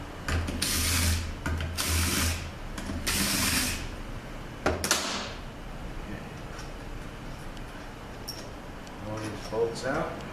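Bolts loosened on the servo body of a Honda MZKA transmission, heard as a few close bursts of ratcheting and mechanical whirring followed by softer handling noises, with a voice speaking at times.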